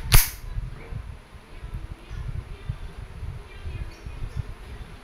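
An Umarex Glock 17 Gen 4 airgun fires a single sharp, loud crack of a steel 4.5mm BB at the start, followed by quiet low handling rumble and background noise.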